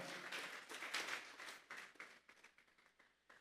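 A church congregation claps, a soft, distant patter of many hands that swells and then tapers off over a few seconds.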